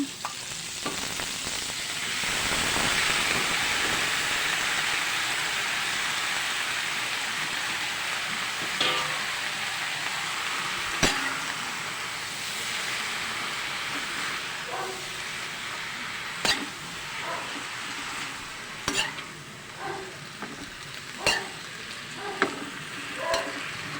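Steady sizzling of kangkong (water spinach) stir-frying in a hot pan, with scraping and clinking of a utensil growing more frequent toward the end.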